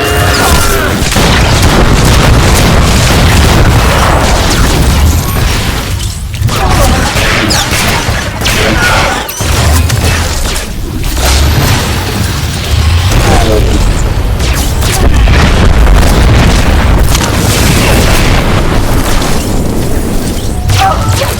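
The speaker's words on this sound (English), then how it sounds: "Open fire, NK!" Blasters and explosions roar in a Star Wars: The Old Republic battle, a dense, loud, continuous barrage of booms and weapon fire with little pause, close and overwhelming.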